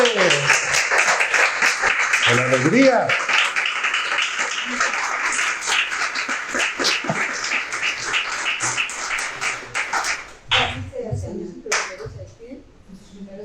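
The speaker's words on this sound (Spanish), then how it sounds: "pero fuerte ese aplauso, Señor" Applause from a church congregation at the close of a Saturday sermon, dense and steady, with a voice speaking over it before the clapping thins out and stops.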